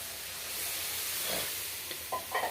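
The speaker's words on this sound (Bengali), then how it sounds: "ভালো করে মশলাটা ভাজা হয়ে গেছে এবং তেল ছেড়ে দিয়েছে। আমি উপর থেকে দিয়ে দিচ্ছি হালকা গরম জল" Warm water poured from above onto fried spice paste in hot oil, for a rohu fish curry, giving a broad steady sizzle and hiss that swells midway, then brief bursts of crackling and stirring near the end; no voices.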